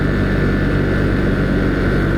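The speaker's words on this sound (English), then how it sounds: "Fighting that wind, keeping upright while getting just blasted by air." Wind blasting a rider on a Husqvarna Svartpilen motorcycle without a windshield on a parkway, a loud, steady roaring rush of air that buffets continuously and fills everything.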